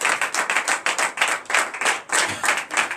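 A church congregation at a night prayer service claps in acclamation for Jesus, a loud, fast, steady rhythmic clapping in regular pulses with no talk over it.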